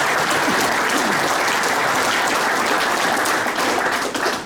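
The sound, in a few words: audience applause at Hall of Fame event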